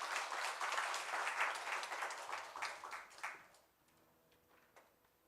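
Applause from a church congregation at a Sunday family service, greeting two youth members coming up to sing; a dense burst of clapping that thins out and fades after a few seconds into quiet scattered claps.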